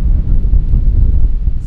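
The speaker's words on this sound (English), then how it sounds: "It's a little windy." Strong wind buffets the microphone during a tornado warning, a loud, continuous low rumble with gusty swells and no voices.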